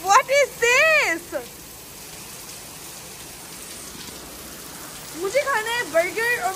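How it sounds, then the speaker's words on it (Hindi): Heavy stormy rain falls on a car, a steady hiss drumming on the roof and body under a voice, which speaks at the start and again near the end. "देखें कितनी तेज़ बारिश हो रही है"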